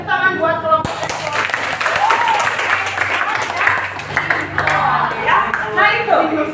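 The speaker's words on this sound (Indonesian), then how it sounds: "Keren, tepuk tangan buat kelompok ekspor." Classroom applause for a student group, moderately loud clapping filling most of the clip, with the teacher's voice audible at the start and end.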